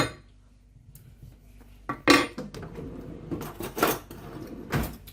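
A spoon clinks and scrapes against a baked dish of aubergine in tomato sauce, several distinct metallic knocks and scrapes close by after a quiet start.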